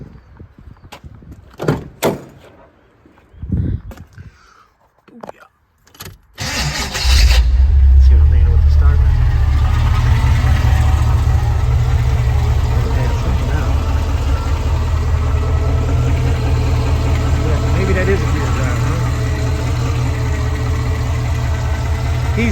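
A G-body Oldsmobile Cutlass with a stock 2.42 rear gear and a different motor planned turns over and fires up at about six seconds, then settles into a loud, steady rumbling idle that runs to the end, after a few brief knocks and clatters.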